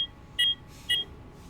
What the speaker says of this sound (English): An alarm pierces the room with a panicked scream.